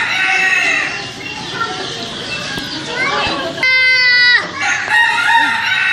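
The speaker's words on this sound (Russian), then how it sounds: "Петух там все кричит." A rooster crows loudly once, a long harsh call, amid a busy background of other birds and voices at a petting zoo.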